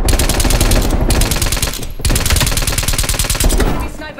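Rapid, loud bursts of gunfire ring out in a Call of Duty: Cold War match, with dense repeated shots running almost continuously and brief gaps near the one- and two-second marks.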